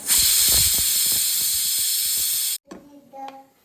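A pressure cooker whistle releasing steam in a home kitchen, a loud sustained hiss that stops abruptly, followed by quieter clatter and faint voices.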